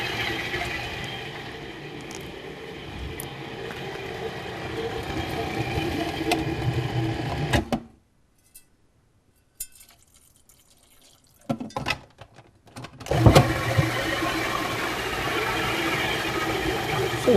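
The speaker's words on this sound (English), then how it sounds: "now I'm gonna use the food processor to blend this up to a creamy consistency" A food processor blending raw taco filling runs as a loud, steady whir with a grinding edge. It stops abruptly, leaving several seconds of near silence broken by a few clatters, then starts up again and runs steadily to the end.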